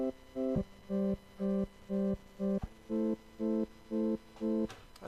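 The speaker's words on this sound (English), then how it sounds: "now if we turn this amount up, you're going to hear the square wave kicking in." Subtractor synth tone with square-wave LFO modulation, flipping in a steady on-off rhythm between two pitches, about nine even pulses alone at moderate level, with a brief noisy sweep near the end.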